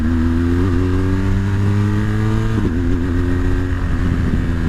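2017 BMW R1200 GS Adventure motorcycle engine droning loudly while riding, with a steady pitch that rises and shifts abruptly at a gear change, close and continuous throughout.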